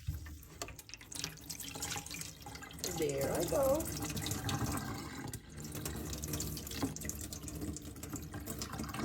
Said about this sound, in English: I could actually wash my rice in the same jug.